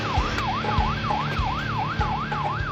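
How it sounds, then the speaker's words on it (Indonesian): A wailing police siren rising and falling in a fast regular cycle, loud and close, with a vehicle rumbling underneath, in a drama series scene. "Keluarin sirine polisi"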